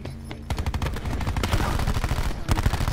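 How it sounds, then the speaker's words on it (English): Rapid automatic gunfire from a video game, fired from the hip in a dense, continuous burst of sharp shots close up and loud, running nearly unbroken for a few seconds. "Look at that! So many bullets! Hip fire!"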